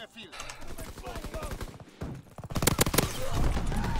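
Rapid, evenly spaced gunfire from a shotgun in a shooter video game, a rhythmic run of punchy blasts that grows louder and denser toward the end, with some talking mixed in.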